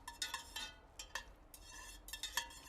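Meat legs and rosemary are stirred in oil in a pan, making soft clinks and scrapes of a utensil against the metal in short irregular bursts, quiet and close, with no talking.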